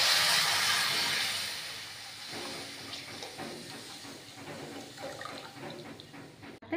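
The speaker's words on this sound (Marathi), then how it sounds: "आता आपण ह्याच्यामध्ये दूध ओतून घेऊयात" Milk poured into grated sweet potato roasting in a pan with dried fruit, a loud rushing hiss and splash at first that settles into quieter sizzling and bubbling.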